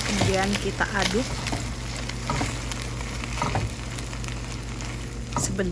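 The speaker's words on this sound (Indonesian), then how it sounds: "Kemudian kita aduk" Marinated beef sizzles in a pot, with a steady fry hiss, clinking and scraping as the meat is stirred, and a voice speaking over the cooking.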